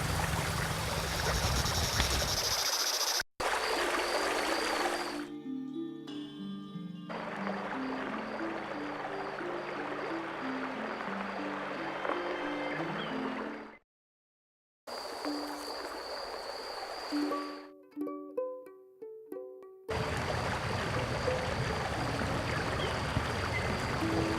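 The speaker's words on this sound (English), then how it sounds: "A swift, cold, pebbly, babbling brook." A swift, cold, pebbly brook babbles in The Night of the Rabbit adventure game, a steady rushing wash broken by brief silences and stretches of soft tonal chimes.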